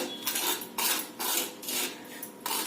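Spices heated on a hot griddle with the gas off, stirred by a utensil that scrapes and clinks against the metal in quick bursts, close up.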